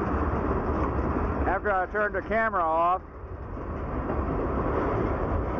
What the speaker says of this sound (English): we got cut off by the train